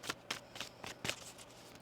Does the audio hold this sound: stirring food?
no